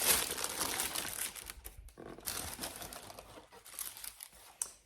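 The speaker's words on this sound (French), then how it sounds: "Vous avez le papier de soie." Tissue paper crinkles and rustles in bursts as a box of shoes is unboxed up close, with brief pauses between handfuls and no speech.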